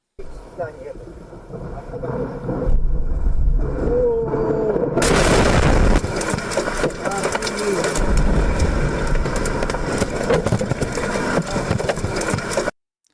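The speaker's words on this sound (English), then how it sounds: "that's a pretty big explosion" A large explosion at a factory in the Moscow area bursts in loudly after a few seconds of quieter rumble, then a sustained heavy roar and crackling debris noise carries on to the end, with voices in the background.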